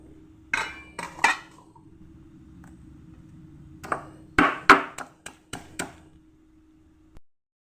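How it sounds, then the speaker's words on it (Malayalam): Small onions and garlic being crushed for a banana-stem curry, giving about ten sharp, close knocks and clinks in an uneven rhythm with short pauses between them, and no talking. "ഈ ഉള്ളിയും വെളുത്തുള്ളിയും ചതച്ചെടുക്കാം."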